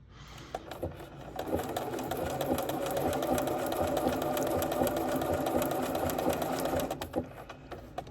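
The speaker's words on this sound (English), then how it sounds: "start sewing" A sewing machine with a manual presser foot runs steady and close while stitching raw edge applique fabric for a bluegrass sampler quilt block, starting after a soft click and stopping near the end.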